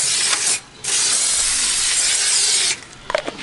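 Canola oil sprays from a spray can at a camp oven cooking setup: two close, loud hissing bursts, a short one and then a longer steady one of about two seconds, followed by faint clicks.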